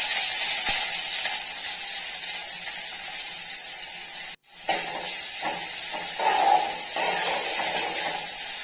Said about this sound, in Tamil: ஒரு பெரிய வெங்காயம் நைஸாக கட் பண்ணி போட்டு இதை நல்லா வதக்கி விட்டுறலாம்